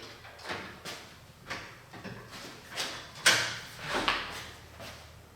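Large double doors that open inward, in a hurricane-prone home, give a series of repeated wooden knocks and creaks at a steady rhythm, fairly close and clear with no one talking.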